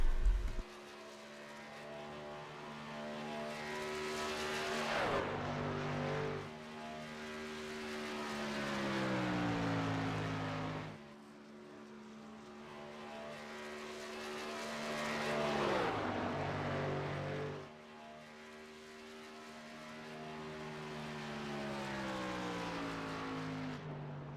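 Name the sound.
race trucks lapping Chicagoland track in qualifying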